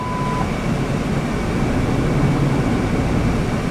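A 2002 Ford F150 pickup with a manual transmission pulling away, a loud, continuous low rumble of engine and road noise from inside the cab, steady throughout with no talk.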